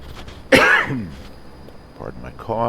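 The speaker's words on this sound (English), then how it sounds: "Pardon my cough." A man coughs once sharply during a flight approach, a close, loud burst followed by some throat clearing and then quiet speech from the same voice.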